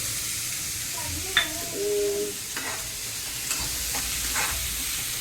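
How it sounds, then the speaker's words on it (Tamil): Soya keema fries in oil and is stirred in a pan, a steady sizzle with scraping strokes of the spoon and a few sharper clinks, close by. "ஒரு தடவை இல்லை, செவக்கிற வரைக்கும் கிளறணும்"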